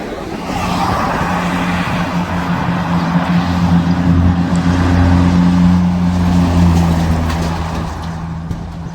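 A heavy ten-wheel truck's engine roar rises from a distance and swells as it draws closer, a low rumbling drone that stays loud before easing off slightly.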